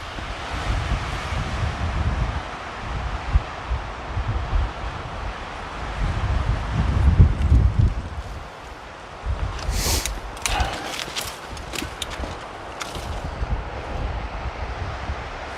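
Strong, gusty wind in a high, exposed bouldering spot buffets the microphone in uneven surges, swelling around the middle and then dropping into lighter bursts with crackling rustles, and no one speaks.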